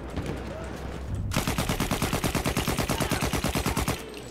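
Rapid automatic gunfire in the World War I shooter Battlefield 1, a loud, evenly spaced burst of about twenty shots close up after a brief lull of background battle noise.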